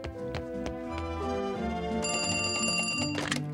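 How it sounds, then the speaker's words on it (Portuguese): A cartoon telephone rings in the undersea world of SpongeBob SquarePants, a bright repeating bell-like ring layered over busy, tonal background music, loud and continuous with no speech. "Você só tem que atender o telefone."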